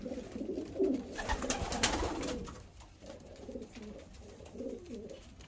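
Soft, low pigeon coos repeat in gentle rhythmic phrases nearby, with a brief burst of rustling or flapping partway through.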